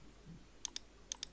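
Two quick pairs of crisp computer mouse clicks, close and fairly quiet, with a short pause between each double click over faint room tone.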